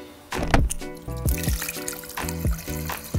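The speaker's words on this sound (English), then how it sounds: "bring out some water and fill this up." Water trickles and splashes as it is poured to fill a container, a steady liquid stream with shifting tone and intermittent splashes, close and fairly loud, with no voices.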